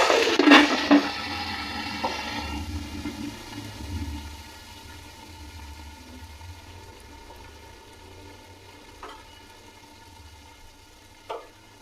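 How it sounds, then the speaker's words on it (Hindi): Water is poured onto dark-browned onions in a pot for chicken pulao, giving a loud hissing sizzle at first that fades into a softer, steady bubbling simmer with a couple of faint clinks. "प्याज डार्क ब्राउन हो चुके, इसमें हल्का सा पानी लगा के साथ ही कवर कर देंगे"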